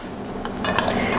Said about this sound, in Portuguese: Eu vou derreter a manteiga aqui na frigideira. E já vou colocar a cebola